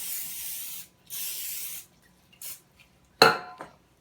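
Oil spray misted over a baking pan in a home kitchen: two long hissing bursts, a couple of short puffs, then a sharp clatter of the tray set down, close and clear.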